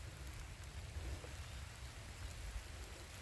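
Steady rain falling, a soft continuous hiss of drops on surfaces, fairly faint and even throughout.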